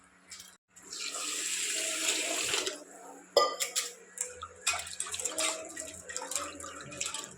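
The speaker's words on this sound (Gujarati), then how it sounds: "ફરી થોડું પાણી નાખી દેવાનું છે।" Water poured from a tap onto rice soaked for idli, a steady splashing rush for about two seconds, then clinks and short splashes of the vessel and water being handled nearby.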